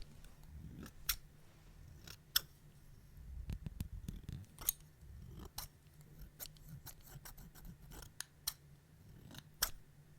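Scissors snip repeatedly in an ASMR whisper session, crisp close-up cuts arriving in irregular bursts over a low steady hum, with no talking.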